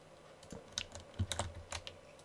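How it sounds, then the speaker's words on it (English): Keys clatter on a computer keyboard while someone plays an Elven-themed building game, a quiet, uneven burst of a dozen or so close clicks and taps with no talking. "I'm sorry if you can hear my keyboard sounds"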